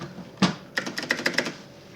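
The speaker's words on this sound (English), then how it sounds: "this is the CM Storm QFR. This has the replacement Epiphany in it. Cherry MX Greens, side printed default keycaps." Typing on a CM Storm QFR mechanical keyboard with Cherry MX Green switches, one sharp clack followed by a quick run of six or seven crisp, clicky keystrokes, close and clear.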